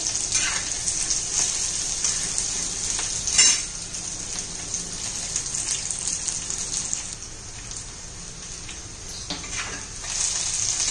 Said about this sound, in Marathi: तांबूस रंगावर येईपर्यंत, मऊ होईपर्यंत तो आपण परतून घेऊया